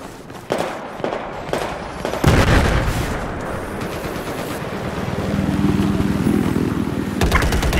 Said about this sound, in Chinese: 敌军机枪